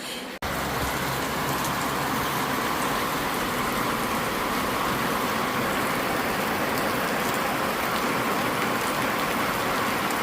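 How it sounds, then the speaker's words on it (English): Heavy, steady storm rain pours down continuously, a dense hiss that fills the whole stretch after a brief quieter moment at the start. "We're getting a good rain now."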